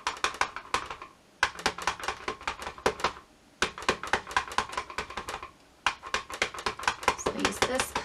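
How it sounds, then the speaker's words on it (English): A rubber stamp taps repeatedly onto an ink pad in quick, light, close-up pats, in several rapid bursts separated by brief pauses during card-making with mandala stamps. "ink my stamp up here."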